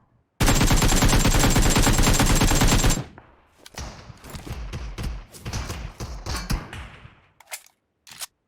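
PUBG Mobile gunfire: a loud, sustained automatic burst lasting a few seconds, followed by scattered quieter shots and distant rattling fire with thuds.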